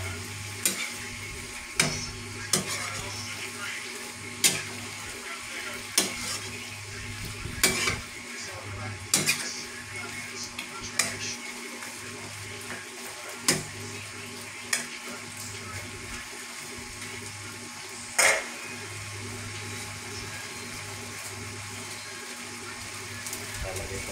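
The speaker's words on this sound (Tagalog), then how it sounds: "Halu-haluin lang po natin yung ating niluluto." Vegetables cook in a pan with a soft steady sizzle while a utensil stirs them, striking the pan in sharp clinks and scrapes at irregular intervals, close and fairly quiet.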